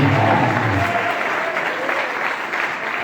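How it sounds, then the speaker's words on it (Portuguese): A church congregation at a prayer-circle congress claps loudly and steadily, a dense sustained applause filling the hall and fading only slightly toward the end. "Bate palmas bem forte para Jesus."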